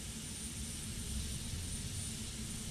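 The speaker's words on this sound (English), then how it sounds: "Well, I got one engine running." A Boeing 727 jet engine runs in Flight Simulator X, a steady, continuous roar with a deep low rumble and a broad hiss above it, holding even and fairly loud throughout with no talking.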